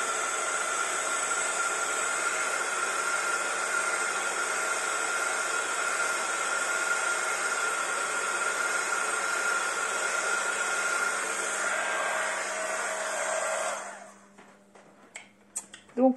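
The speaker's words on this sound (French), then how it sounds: "je vais prendre mon heat gun. Et je vais sécher un peu." A heat gun dries watercolor paper for a card with a sea background, giving a steady, loud blowing hiss that runs without a break and then cuts off near the end, followed by a few small handling clicks.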